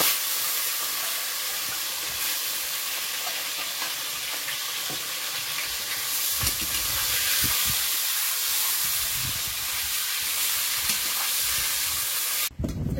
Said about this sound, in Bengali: মাছ একটা করে কড়াই দিয়ে দেয়।